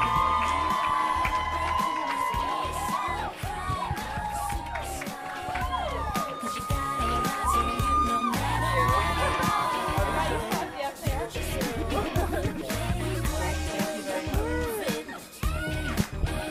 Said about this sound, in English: Everybody get loud. Start clapping right now for your next contestant